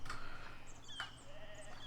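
Sheep bleating in the farm-building game Foundation, a few short faint bleats over a steady low background hum.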